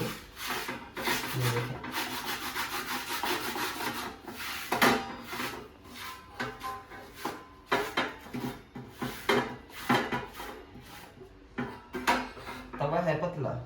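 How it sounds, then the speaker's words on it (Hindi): A thin tawa griddle being scraped, with rapid rough rasping strokes in irregular bursts, close and fairly loud. A person speaks briefly over the scraping. "तवे को वैसे खुरचना चाहिए"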